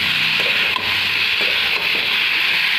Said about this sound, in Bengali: এবার এটা আমি অনেকক্ষণ নাড়বো,